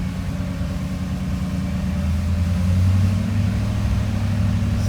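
A car with an LTXD engine and 6L80E transmission pulls away from a steady idle, its low engine hum swelling slightly as it accelerates, then settling, heard close with no talk.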